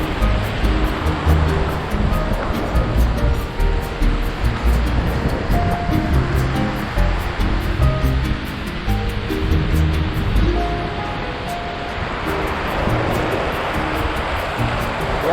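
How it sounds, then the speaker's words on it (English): Continuous broadband wash of surf rolling onto Rock Beach in Auroville, steady and fairly loud, with wind noise mixed in and no talking. "got to the end because I'm now at the ocean"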